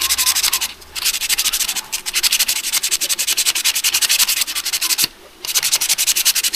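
Sandpaper rubbed by hand over a brake caliper, a steady rhythmic scrubbing of rapid back-and-forth strokes, loud and close, broken by a few short pauses.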